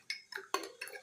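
A spoon mixes a homemade flu remedy in a cup or bowl, producing four quick, close metallic clinks and scrapes in an uneven rhythm, faint and alone.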